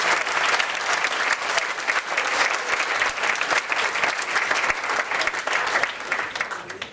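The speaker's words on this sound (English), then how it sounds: "So give yourselves a big round of applause." A crowd at a care awards ceremony applauds steadily for several seconds, a dense wash of clapping that stays fairly even before tapering slightly.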